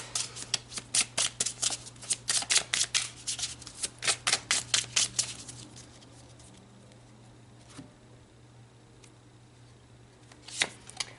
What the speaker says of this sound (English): So let's pull some more cards to clarify further about what happened here, why we're separated.